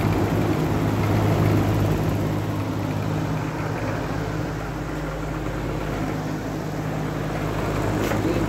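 A Holmecrest box fan's electric motor runs steadily and smoothly, its broadband whoosh and low hum held at an even level throughout, close up and with no voices.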